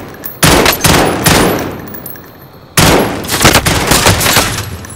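Gunfire in Call of Duty: Modern Warfare, loud close bursts of rapid automatic fire in two long volleys separated by a brief lull, with echoing crackle and a faint distant voice.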